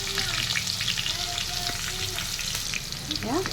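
Two onions frying in a pan with a little kasuri methi, a steady close sizzle with bursts of stirring and scraping, no talking.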